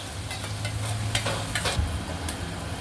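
Chicken giblets stir-fried with sweet peppers in a hot pan, seasoned with sugar, oyster sauce and light soy sauce, giving a steady close sizzle with scraping and stirring strokes throughout and no talking.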